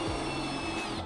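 A power drill whines steadily at a high pitch, its bit grinding through the metal base of an HVAC unit stand with a faint rattling edge.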